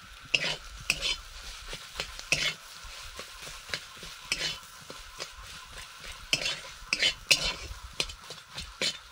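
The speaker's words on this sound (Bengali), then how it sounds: "এই পুরটা একটু মাখা মাখা করে নেব ঠেসে।" A cauliflower singara filling, seasoned with chili powder and garam masala, is pressed and mixed in a pan, giving repeated soft scraping and stirring strokes with occasional utensil clinks against the pan.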